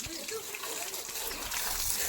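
Water splashing and gushing faintly and continuously as cars and motorbikes are washed outdoors, with voices talking over it.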